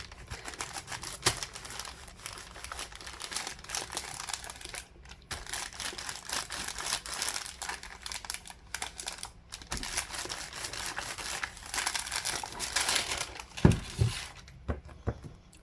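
Baking paper handled during a heat-application craft project, with dense crinkling and rustling that runs almost continuously at close range, plus a few sharper taps near the end and no talking.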